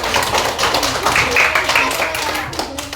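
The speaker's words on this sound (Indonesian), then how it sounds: "Tepuk tangan dulu." Students in a classroom clap together during a religious education lesson, a busy patter of hands running throughout with voices and chatter mixed in underneath.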